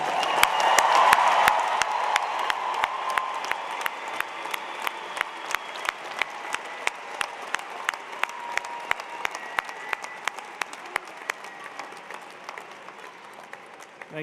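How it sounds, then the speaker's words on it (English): At a spring engineering commencement, a large crowd applauds the graduating class, a broad roar that settles into a steady clap pattern with sharp beats and gradually fades over about fourteen seconds. "now let's all give the class of 2022 another round of applause"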